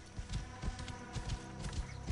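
Horse hooves clip-clop in a steady walking rhythm on sand in Assassin's Creed Origins, close and moderately loud over a low game ambience.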